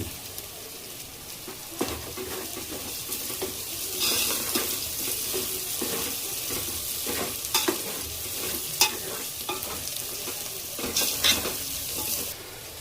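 Garlic added to hot oil and frying in a pan while cooking rajma: a continuous close sizzle with clinks and scrapes of a spoon stirring, no voices.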